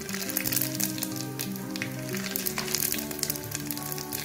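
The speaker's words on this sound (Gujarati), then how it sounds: "એકદમ સરસ વઘાર લાગી ગયો છે," Cloves, mustard seeds and whole cumin sizzle and crackle steadily in hot oil, a tempering for a green peas gravy sabzi, heard up close with sharp pops through the frying.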